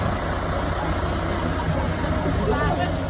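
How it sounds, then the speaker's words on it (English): A bus in Normandy runs with a steady low engine rumble from inside the vehicle. Voices chatter over the drone throughout. "Going in the bus."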